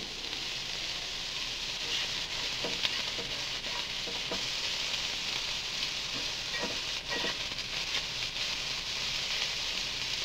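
Chopped vegetables sizzle steadily in a hot pan with a soft, continuous frying hiss, punctuated by a few light clicks of stirring, fairly quiet and without speech.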